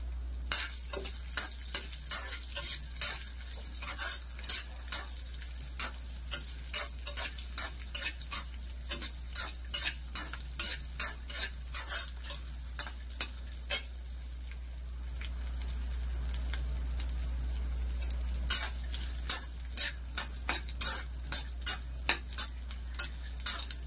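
Raisins fry in a pan for a carrot and sago payasam, giving a steady close sizzle with frequent sharp scrapes and clinks of a stirring spoon throughout.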